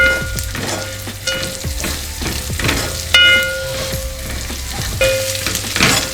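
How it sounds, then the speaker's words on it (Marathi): Chopped bottle gourd with chilli and spice masala sautéing in a pan, frying loudly nearby with a constant crackling sizzle and repeated stirring scrapes, no voices. "2 मिनिटं परतून घेऊया।"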